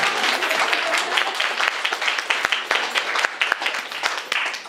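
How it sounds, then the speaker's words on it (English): Applause from an audience at a game developers' talk event, after a lecturer active in the game jam community is introduced; dense, steady clapping from many hands fills the room, with a little talk underneath. "Yeah, give him a round of applause."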